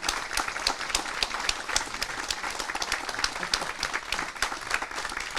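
A concert audience applauds a young singer at a benefit show for Ukraine, dense sustained clapping from a large crowd that holds steady and loud without pause.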